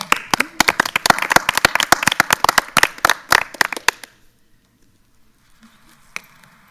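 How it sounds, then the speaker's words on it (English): Scattered hand claps from a small crowd at a county school board meeting, quick and uneven for about four seconds before fading into quiet room tone. "So let's give another round of applause for our Great 8"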